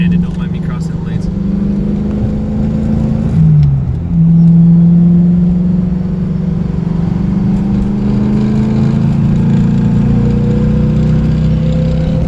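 A 1992 Mustang GT with SVE headers, an SVE X-pipe and dump exhausts, heard from inside while driving: a steady, loud V8 drone with a brief shift or throttle change, then a sustained cruise note.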